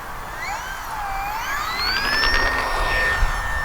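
RC P-51 Mustang model plane taking off down a runway in a light crosswind, its whining motor rising steadily in pitch as it speeds up, fairly close and continuous with no talk.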